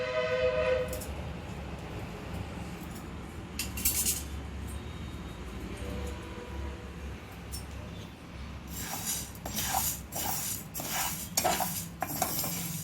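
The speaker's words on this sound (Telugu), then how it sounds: "ఇలాగా కొద్దిసేపు వేయించుకోవాలండి మెంతులు" Fenugreek seeds fry in a pan for red chilli pickle, a soft crackling sizzle punctuated by intermittent scraping and clinking of a utensil against the pan, with bursts of stirring toward the end and no talking.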